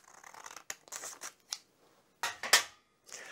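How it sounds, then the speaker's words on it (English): Scissors snipping through a folded paper story page, a series of short close crisp cuts in irregular bursts with brief pauses between them. "I take my pair of scissors and I cut halfway through in the middle."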